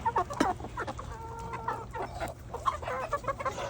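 Roosters and chickens cluck and squawk in a busy, irregular chorus close by, with one drawn-out call rising over the steady flock chatter.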